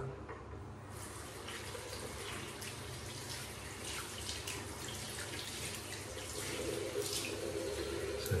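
A synthetic shaving brush with a 28mm Zebra knot is rinsed under a running bathroom tap, a steady splashing water stream that holds near and fairly loud throughout, with no talking.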